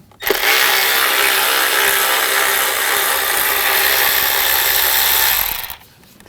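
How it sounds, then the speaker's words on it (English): A power tool driving a T25 socket on a BMW 328i 3.0L inline-six runs in one loud, continuous whir that stops abruptly near the end. "Take this screw out."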